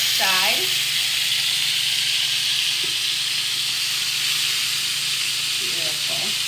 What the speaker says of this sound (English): right now we're just searing off each side.